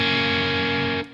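A distorted electric guitar, tuned down a half step and played through an aggressive Marshall-style Naylor amp, rings out as a sustained, loud chord that cuts off sharply at the end.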